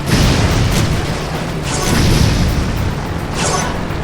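Bombs launched from a vehicle explode in Jak 3, loud booming blasts with whooshing bursts at about the start, the two-second mark and three and a half seconds, over a constant rumbling background.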